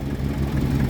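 A Mercedes-Benz W123 250 engine running after sitting parked for 17 years, a close, steady low rumble with a smooth, even idle and no voices.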